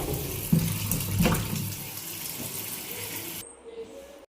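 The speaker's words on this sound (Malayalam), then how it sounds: "ആദ്യം നമുക്കിത് കഴുകിയെടുക്കാം" Vegetables and small prawns are rinsed under a running kitchen tap, water splashing and gurgling steadily with a couple of sharper knocks early on, then the flow cuts off near the end.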